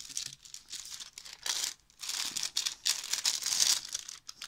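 Green baking-type paper is crinkled and folded in half by hand, a close crackly crumpling in several bursts with short pauses and no talk.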